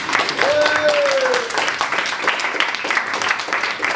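A theatre audience at a comedy magic show applauds with steady, moderately loud clapping for the whole stretch, while a brief whistle-like tone rises over it near the start.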